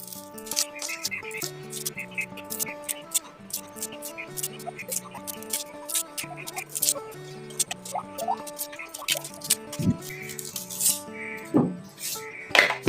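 Onions washed by hand in water in a home kitchen for onion samosas, with close splashing, dripping and a few clinks of a bowl, under steady background music.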